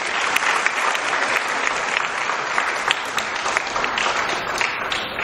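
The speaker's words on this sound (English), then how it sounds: "Can we please give him another round of applause?" Dense, steady audience applause at a Save the Children centenary celebration in Nigeria, many hands clapping close and loud without pause for the whole stretch.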